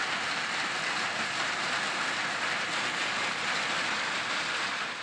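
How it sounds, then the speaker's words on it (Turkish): Hail pours down during a village storm that follows a tornado, a dense, continuous, loud hiss of pelting ice and rain with no pauses and no voices. "Şimdi de dolu yağıyor."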